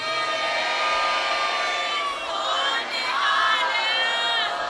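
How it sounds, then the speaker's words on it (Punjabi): A Sikh congregation at a kirtan samagam at Gurdwara Mukherjee Park shouts a jaikara chant in unison, loud and sustained massed voices that dip briefly and surge again. "ਜੇ ਤਾਂ ਸਾਰਿਆਂ ਨੇ ਆਉਣਾ ਤਾਂ ਇੱਕ ਜੈਕਾਰਾ ਲਾ ਦਿਓ"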